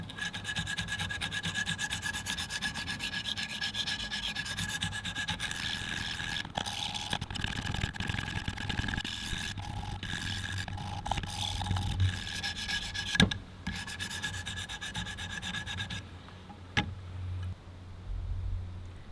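A blade edge is rubbed back and forth on a 200 grit sharpening stone, a steady gritty rasping that runs continuously at moderate level with a few brief knocks, no voices.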